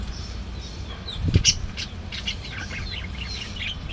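Pet birds chirp in short, scattered calls over a low background hum, with one louder burst near the middle; no one speaks.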